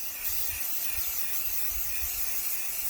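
Rust-Oleum camouflage spray paint hisses steadily from an aerosol can as a rifle is coated, a close, continuous airy spray with faint low rumble underneath and no talking.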